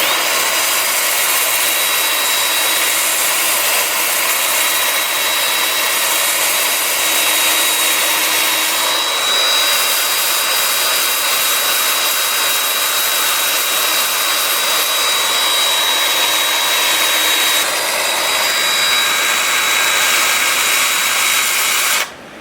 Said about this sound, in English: I'll have the lathe spinning in reverse at about 200 RPM